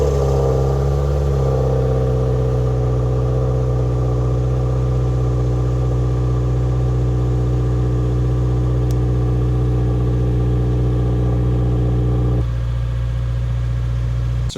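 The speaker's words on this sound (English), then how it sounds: "So as you can hear, the cold start is pretty quiet" A Subaru WRX engine idles after a cold start, a steady, fairly quiet hum with a slight pitch settling early on and an abrupt drop in tone near the end.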